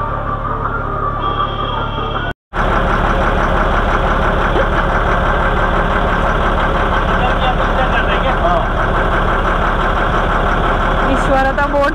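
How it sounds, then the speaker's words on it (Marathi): A motorboat engine drones steadily on Lake Vembanad in Kerala, loud and close. It is cut by one brief dropout early on, with voices mixed into the constant rumble. "ईश्वर आता बोट चालवतोय"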